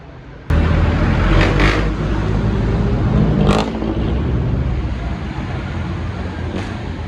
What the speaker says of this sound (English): This is the bus station, Buendia. Noisy and crowded.